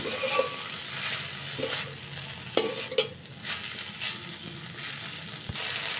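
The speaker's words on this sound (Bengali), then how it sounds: "পাতাটাকে আমি এইভাবে আমি একটু ভেজে নেবো" Washed, chopped moringa leaves frying in a pan, with soft sizzling and irregular stirring scrapes and a few sharper knocks of the utensil against the pan, close but fairly quiet.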